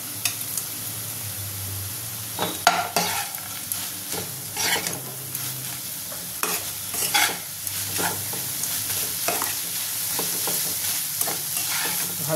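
Red amaranth greens frying with crumbled bori, stirred steadily in the pan: a loud, continuous sizzle with repeated scraping strokes of the spoon, close and clear throughout.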